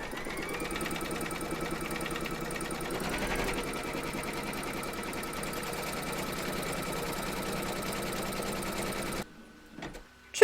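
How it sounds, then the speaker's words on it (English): An embroidery machine stitches a securing round through batting taped over an outline in the hoop, a steady, fast mechanical whir with rapid needle ticking that runs alone for about nine seconds before stopping, followed by a few faint handling clicks. "Pop your hoop into your machine and stitch round number 2 to secure it."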